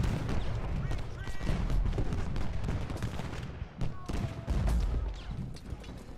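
Volleys of infantry musket fire in the Gettysburg battle game Ultimate General Gettysburg, sharp cracks and pops crowding together in ragged bursts over a dense battlefield din, with someone talking over parts of it.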